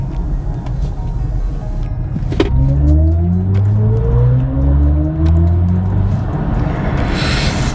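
A BMW i4 M50 electric car accelerates hard along an open road in Melbourne: a steady cabin rumble is joined by several rising electric-motor whines that climb together in pitch for about five seconds before easing off.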